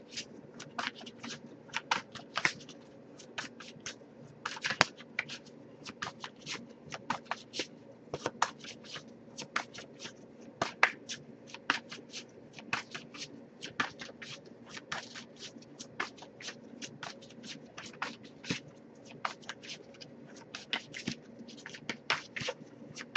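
Tarot card deck being shuffled continuously, a close, quiet stream of riffling snaps and soft card slaps over a low steady hum, with no talking.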